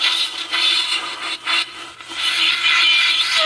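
A beginner blows a Persian ney with a breathy, hissing rush of air and no clear tone, steady and fairly loud with a few brief dips.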